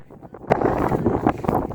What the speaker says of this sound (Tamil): அந்த அடிக்கிற காற்றுமே வந்து உண்மைக்கும் செம்ம இதமாக தான் இருக்குது